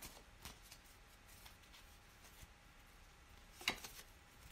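Soft, close card shuffling, a faint riffling with a few light snaps, one sharper flick near the end, in a quiet room.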